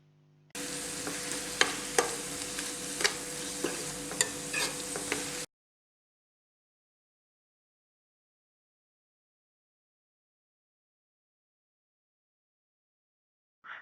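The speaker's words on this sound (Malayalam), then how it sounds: "ഇതൊന്ന് നന്നായിട്ട് മിക്സ് ചെയ്ത് നന്നായിട്ട് ചൂടാക്കി എടുക്കണം" Masala stirred and fried in a pan for chicken macaroni: a steady close sizzle with repeated scraping strokes of the spoon for about five seconds, then silence.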